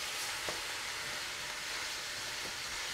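Broken-up beef fries in a pan for Bolognese sauce, a steady close hiss and sizzle that runs without pause, with a couple of faint scrapes of stirring.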